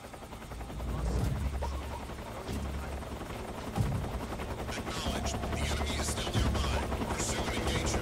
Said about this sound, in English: How close is the helicopter? It's fucking deafening me right here.